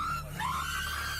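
A woman screams continuously and at close range during a roadside police stop on a highway, the high strained cry rising and wavering without a break.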